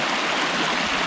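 River water rushes loudly and continuously around a small island, a dense close-up flow with gurgling, no voices.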